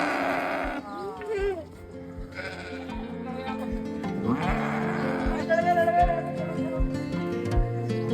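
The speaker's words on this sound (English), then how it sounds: "the sound they are making, the sheeps" Sheep on a mountain trek campsite bleat repeatedly nearby, wavering calls overlapping one another, while people talk faintly in the background.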